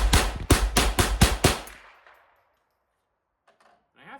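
A Henry .22LR rifle fires Remington Golden Bullet rounds in a quick string of six sharp, loud cracks, each ringing briefly before the shots stop and leave near silence with faint movement at the end.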